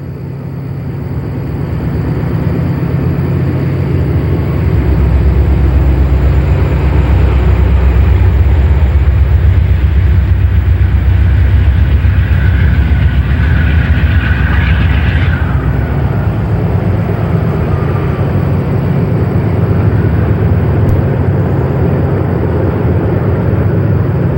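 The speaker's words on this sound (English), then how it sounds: "Certain that we had heard diesels exiting the new Portage tunnel below us" Conrail diesel locomotives exiting the Portage tunnel on the Portage Secondary, a loud sustained low engine drone and rumble building up and holding steady for the whole stretch.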